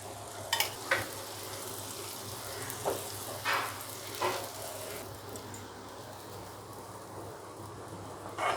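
Faint, steady sizzle of oil frying on a high-protein dosa on a pan, with a few soft scraping or spattering bursts over a low background hum.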